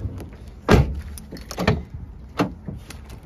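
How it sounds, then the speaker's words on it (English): A car's rear door is opened, giving a few sharp mechanical clunks and latch clicks spread over a few seconds, close and moderately loud with no talk. "the back door opens both ways all the way down and the side way"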